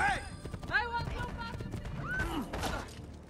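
A horse in Assassin's Creed II gives several loud whinnies over clattering hooves and crashing game noise, all close and busy. A voice is heard speaking in the mix.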